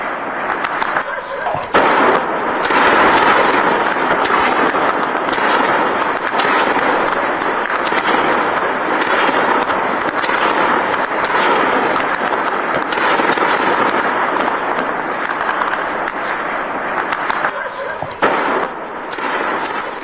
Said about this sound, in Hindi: बैक टू बैक 5 से 6 धमाके जिनकी आवाज सुनी गई